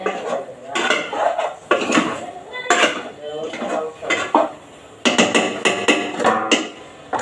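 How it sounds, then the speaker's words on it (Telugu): A metal lid clatters onto a pot of chicken curry after stirring, with several sharp clanks and scrapes of utensils against the pan in uneven bursts, close and fairly loud, with faint background voice. "బాగా కలిపేసిన తర్వాత అయితే మూత పెట్టేస్తాను"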